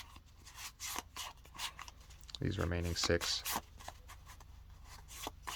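Crisp papery riffling of playing cards being shuffled, with quick repeated flicks and a brief voice speaking in the middle.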